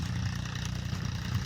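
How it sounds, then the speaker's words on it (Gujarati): A tractor engine runs steadily on a farm at sowing time, giving a low continuous rumble with a faint rhythmic chug throughout. "આ જો કાળો કાકા ટ્રેક્ટર હાકે છે."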